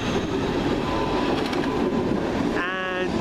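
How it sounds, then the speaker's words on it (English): A London Midland class 323 electric train pulls away from a station platform, a loud steady rumble of motor and wheels close by, with a brief rising whine near the end. "Now leaving the delayed 1227 London Midland service from Lichfield Trent Valley to Longbridge."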